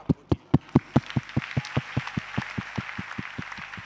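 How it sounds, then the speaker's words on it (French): Applause from a congregation at a church service, a burst of loud, crisp claps at first that quickly blends into a denser, softer ongoing clapping from many hands, with no talk over it. "Moi j'ai bien applaudi."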